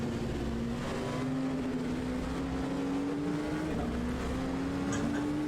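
Race cars at Le Mans in the 2020 endurance event brake and work through the Dunlop chicane, a steady rising engine tone continuing throughout with a brief dip near the middle, loud and close with no talk.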